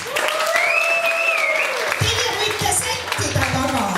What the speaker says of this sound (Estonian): teeme mõnistele suure aplausi